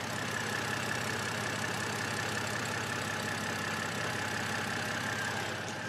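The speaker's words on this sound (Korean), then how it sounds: "이 차량 바로 이제 엔진 소리 한번 들려드릴게요." A naturally aspirated six-cylinder engine in a BMW 5 Series idles smoothly and steadily, with a constant low hum and fine mechanical ticking held at an even level throughout.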